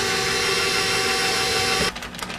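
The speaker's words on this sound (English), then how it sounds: "I'm not sure if the mixer is going to handle it all." An electric stand mixer whirs steadily through a heavy hermit cookie dough with five cups of flour added, a loud close mechanical drone that strains before cutting off abruptly near the end.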